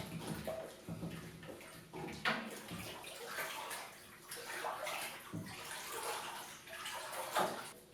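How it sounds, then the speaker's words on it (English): Water sloshes and swirls in a bathtub in repeated waves, splashing gently and continuously as hands stir it close by during home beer brewing. "you want to move the water around the bathtub with your hands as well"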